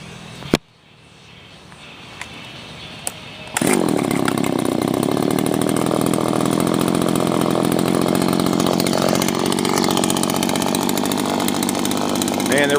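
A Stihl FS85 trimmer fires up after a few faint handling clicks, and its small two-stroke engine then runs continuously at a loud, steady buzzing idle.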